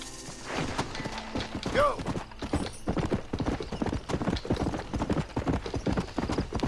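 Horse hooves gallop in Red Dead Redemption, a steady, loud clip-clop rhythm running the whole time, with occasional thuds and a brief whinny-like cry in the game mix.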